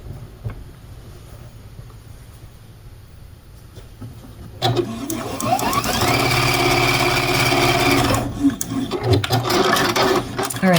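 A sewing machine stitches an applique piece onto a snowman quilt block in one long continuous run of fast, close needle strokes after a quiet start with light handling.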